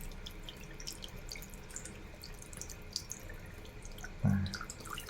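Water runs and drips while a female crab, caked with mud and grime, is scrubbed and rinsed clean, with a low steady trickle throughout and a brief louder splash near the end, no talking.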